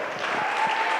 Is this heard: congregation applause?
yes